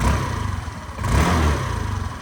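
A 2017 Suzuki Address 125 DT11A scooter engine runs close by outdoors in frosty weather, a steady low putter that swells briefly in the middle like a light throttle blip, with no talking.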